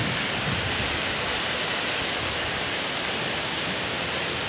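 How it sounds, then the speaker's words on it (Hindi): Heavy rain pouring onto a wet road in Raipur makes a dense, unbroken hiss. It is loud and even throughout, with no voices over it. "गाइस देख सकते हो बारिश भी तेज़ हो गई है"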